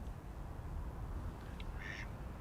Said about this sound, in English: Quacking away.